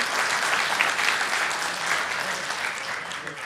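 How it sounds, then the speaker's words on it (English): Steady audience applause at a Southwest Airlines Hawaii Island event, many hands clapping at moderate loudness, sustained and even throughout. "Give a round of applause for that."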